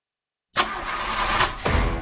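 After a moment of silence an engine cranks close and loud, whirring steadily with a couple of rhythmic surges but never catching, with no voices.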